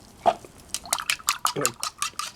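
A paintbrush is swished and tapped in a water jar while painting on a green, white and black palette, a quick series of wet clinks and splashy strokes against glass at close range.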